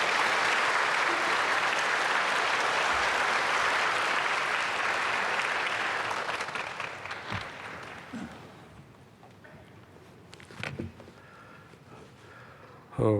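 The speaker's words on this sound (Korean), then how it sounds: "박수로 맞이하겠습니다" Sustained applause from a church congregation at an early-morning prayer service, loud and steady for about six seconds before thinning into scattered claps and fading away.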